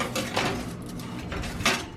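Bacon tray pushed into a preheated home oven, heard as a couple of close metallic clatters and a scrape of a pan on the rack.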